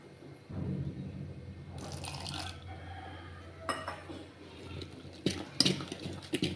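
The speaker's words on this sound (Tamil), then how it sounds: "மாவு வந்து கொஞ்சம் திக்காக இருக்குது அதனால் கொஞ்சமாக தண்ணி சேர்த்துக்கிறேன்" Water is trickled into a thick batter for a healthy tiffin dish in a home kitchen, making soft liquid pouring and clinking sounds of a utensil or vessel, faint and close with no talking.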